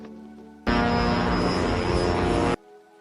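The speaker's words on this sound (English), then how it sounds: "Pilots puts in maximum power to gaining the altitude to fly over the mountains safely" An airliner engine roars at maximum power over mountains, a sudden loud, steady broadband drone with a high whine that lasts about two seconds before cutting off to a quieter hum.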